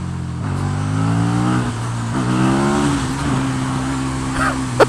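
A KTM 1290 Super Duke R motorcycle engine heard while riding, a loud steady drone with its pitch sliding up and down as the throttle changes, wind rushing around it and a rider talking over it.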